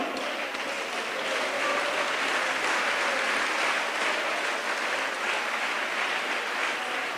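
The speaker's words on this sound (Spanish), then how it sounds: "Tribute un aplauso." Sustained applause from a church congregation during a Spanish-language worship service and sermon, a steady dense wash of many hands clapping that holds evenly for several seconds with no voices over it.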